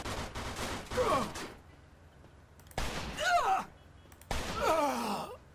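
Three bursts of gunfire in the video game Mafia II, with sharp onsets, each trailing into a ringing, sweeping tail, separated by brief quiet gaps.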